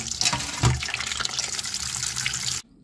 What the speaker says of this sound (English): Next, we are going to rinse this.